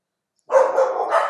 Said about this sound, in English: And you can hear the dogs quite a bit right now.